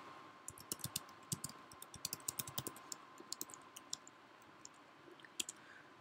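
Rapid, uneven keystrokes on a computer keyboard while code is typed, bursts of crisp clicks with short pauses, close and alone with a faint steady hum behind.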